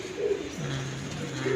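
Pigeons coo in two soft, rounded bursts near a rooftop pigeon loft, with a steady low hum in between and no talking.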